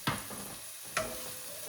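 Onions sauté in a pan for chicken pumpkin curry soup, a faint, steady sizzle broken by two brief clacks of a utensil against the pan.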